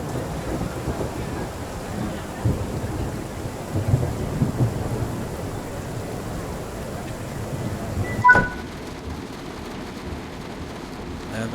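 Thunderstorm with rain in the train-driving game Train Sim World, a steady wash of rainfall with rolling rumbles of thunder and a sharper crack near the end, continuous and full.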